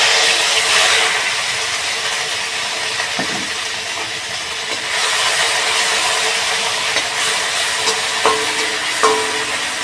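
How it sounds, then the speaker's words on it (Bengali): A ground paste of green chilli, ginger, onion and garlic fries in a pan with a constant bright sizzle and hiss, broken by a few soft clinks of stirring. "এই মশলাটাকে একটু ভাজা ভাজা করে নিতে হবে"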